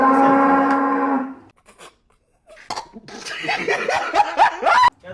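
A cow kept at home gives one long, loud moo, then after a short quiet gap people talk and laugh.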